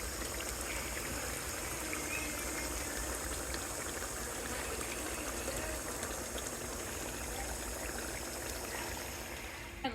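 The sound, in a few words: draining oil off browned ground beef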